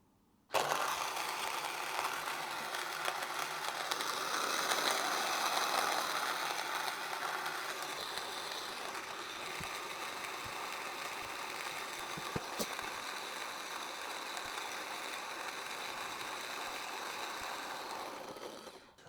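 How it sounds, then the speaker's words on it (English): OutIn Fino portable electric coffee grinder grinding coffee beans, a steady, fairly quiet mechanical whir with a gritty rattle that starts abruptly, holds for about eighteen seconds and then cuts off. "Okay, so it's finished grinding now."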